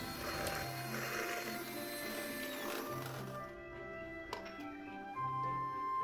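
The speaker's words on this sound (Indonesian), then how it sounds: "kemudian mixer hingga menjadi putih dan kental" An electric mixer whipping eggs with emulsifier for a steamed cake, a steady mechanical whir with rhythmic ticking and clattering, close and fairly quiet, no speech.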